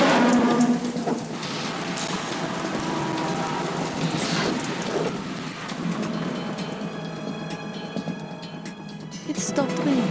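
Rain and thunder from a PS2 demo disc game: steady rainfall hisses throughout with low rumbles of thunder, mixed with game sound and faint background music.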